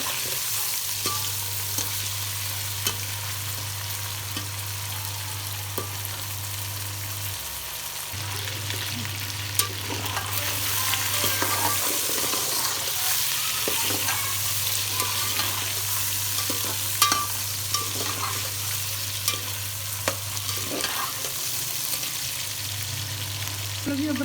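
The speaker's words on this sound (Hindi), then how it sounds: "गोश्त को अच्छी तरह फ्राई कर लेंगे" Chicken meat fries in a pan for a gobhi chicken curry, giving off a steady, close sizzle with scraping stirs and occasional spatters over a constant low hum, and no one speaks.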